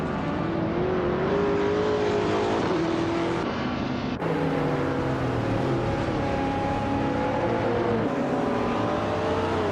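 Race car engines in a video game roar and rev in a steady, continuous drone, with gear-like pitch shifts and near constant loudness, no voices.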